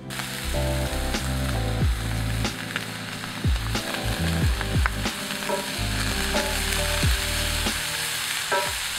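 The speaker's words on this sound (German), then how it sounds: "Den Bacon dann in einer Pfanne ohne Fett bei mittlerer Hitze knusprig braten." Steady frying sizzle of bacon and diced onions in a pan over medium heat, with occasional scraping and stirring clinks, continuous and fairly close, no voices.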